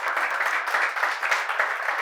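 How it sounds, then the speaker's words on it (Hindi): Applause for a performer at a Lucknow open mic, a steady dense wash of clapping from the audience lasting throughout, fairly loud and unbroken with no talk over it. "एक बार जोरदार तालियां उनके लिए।"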